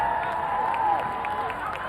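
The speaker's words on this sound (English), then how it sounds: "How about a big round of applause for Zach Hardy?" Applause and cheering from a crowd at a high school varsity football game, a steady, fairly distant wash of clapping with a whistle-like tone drifting through it.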